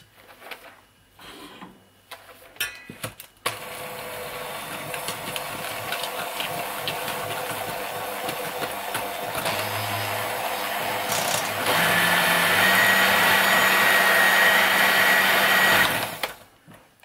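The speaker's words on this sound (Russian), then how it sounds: "И начинаем взбивать." An electric mixer whips wet meringue cream in a bowl, giving a steady loud motor whine that starts abruptly, rises in pitch and intensity partway through, then cuts off. A few clinks come before it.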